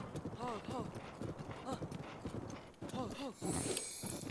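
Horse hooves clip-clop in Zelda: Breath of the Wild in a steady galloping rhythm, mid-distance, with game sound effects and a voice talking over them.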